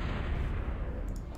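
A Thud artillery unit fires in the strategy game Total Annihilation, giving a dense, low booming rumble that stays steady and fairly loud for the whole moment, with no voices over it.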